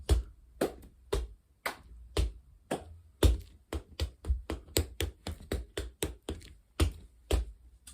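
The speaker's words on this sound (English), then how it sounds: "you just do what we did in the first instance with the stamp, clap, stamp, clap, stamp" Tap dancer's stamps and hand claps in a Henry LeTang–style combination, a steady run of sharp, close percussive hits in a syncopated stamp-clap pattern, with no voice.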